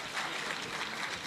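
A crowd in a hall at the MUET Jamshoro university convocation applauds graduates receiving degrees, a brief steady wash of clapping with no distinct individual claps standing out.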